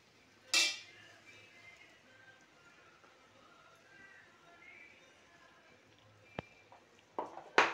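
Ground coconut paste being added to aviyal in a pot, with a few sharp metallic clinks of a spoon against the vessel spaced over soft background hiss, another cluster of clatter at the end.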